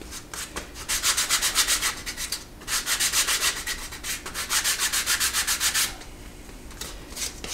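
Rhythmic back-and-forth rasping as sandpaper works the stacked leather edges of a card holder, close and steady in quick strokes, with a brief pause midway and a quieter stretch near the end.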